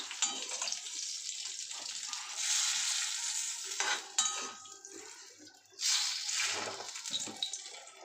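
Hot oil sizzles steadily in a wok as food fries and is stirred, with scraping stir strokes and louder surges of spitting where ingredients are added bit by bit. The sound is close and continuous, with no talking.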